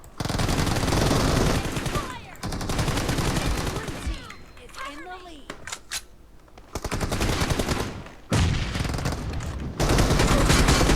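Long sustained automatic rifle fire from a video game rattles loudly in extended bursts, broken by short pauses, with a voice talking in between.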